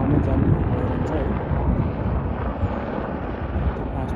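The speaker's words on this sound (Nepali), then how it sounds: "यो चाहिँ जाँदै गरेको हेलिकप्टर त आउने जाने भइरहन्छ" A helicopter passes high in the Himalayan mountains near Gosaikunda at about 4380 m, a steady broad rumble that blends with wind noise and holds for several seconds while a person talks over it.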